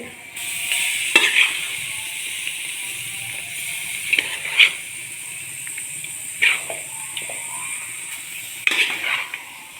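Steady sizzling of chicken frying in coconut oil in a pan, with a few sharp scrapes and clinks of stirring at irregular intervals.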